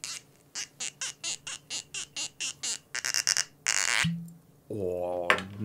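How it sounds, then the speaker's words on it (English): Lagavulin 16 year old single malt whisky glugs from the bottle into a glass in a quick rhythmic series of gurgles, followed by a short splash and then a voice speaking close by. "let's pour a nice tasty little dram"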